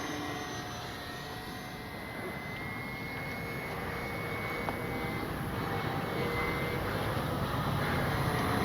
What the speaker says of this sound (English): Nice locked in plane. She flies straight as an arrow.